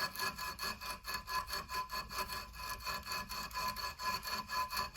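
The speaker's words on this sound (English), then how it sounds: "take some sandpaper, put it around the file." Steady back-and-forth rasping of sandpaper wrapped around a file, sanding scratches out of a steel hunting and camp knife blade, with a regular stroke rhythm of about two rubs per second, close and continuous with no talk.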